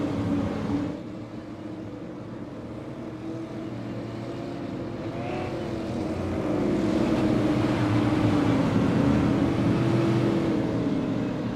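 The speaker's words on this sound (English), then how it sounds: "the engines are already fired up" Race car engines idling and rumbling together on a short track at night before the start, a steady drone that swells slightly toward the end.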